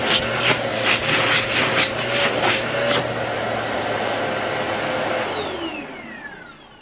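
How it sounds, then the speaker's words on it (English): A Dirt Devil Multi-Surface pet vacuum cleaner motor runs steadily with a high whine in a living room, airflow surging a few times early on, then winding down near the end. "It sounds like every other vacuum in this price range does today."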